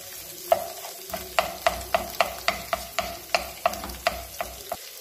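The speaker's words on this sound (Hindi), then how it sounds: "तीनों को अच्छी तरह मिक्स करना है ताकि गाजर जो है वो नरम हो जाए" Egg fried rice with carrots is stirred in a pan: a steady run of about a dozen sharp spatula scrapes and taps at an even rhythm over a soft sizzle, close and clear, with no talk.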